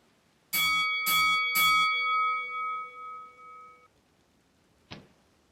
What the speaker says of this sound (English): as the bell rings